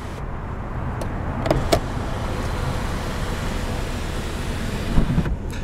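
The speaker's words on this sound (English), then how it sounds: "Now up top, you've got your one-touch power sliding sunroof" A one-touch power sliding sunroof in a Hyundai Accent runs with a steady motor whir inside the cabin, framed by a few clicks near the start and end.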